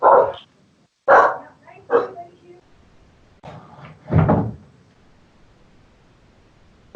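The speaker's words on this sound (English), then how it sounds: "My dogs are going crazy." Two pet dogs bark in short, loud bursts indoors, a few sharp yips separated by brief pauses with near silence between.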